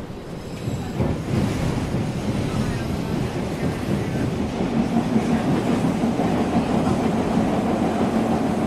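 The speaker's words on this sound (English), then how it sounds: "The next outbound metro train from Chicago is now arriving." A Chicago metro train rumbles in with a rising rush of rail noise and faint clatter, heard alone with some wind buffeting.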